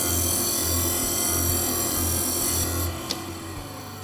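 A Pro Edge M400 sharpener runs its 320-grit finishing stone against a small HSS blade, giving a steady, loud grinding drone with a low hum, easing slightly near the end after a brief sharp tick.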